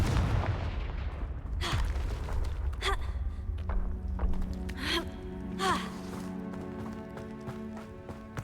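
Confringo fire-blast spells go off in the Hogwarts Legacy video game, a handful of sharp, booming bursts spaced a second or so apart over a steady rumbling game soundscape.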